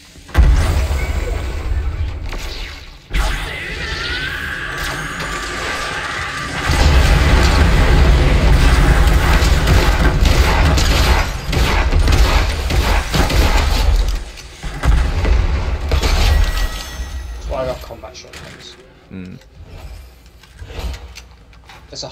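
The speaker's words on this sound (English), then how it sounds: "It's a heist of explosive assault rifle. That's insane. It's explosive." Explosive assault rifle fire in Fortnite Battle Royale during a vault heist, delivered as loud, dense bursts of booming blasts and rapid shots that keep up across most of the stretch, with a short lull near the start.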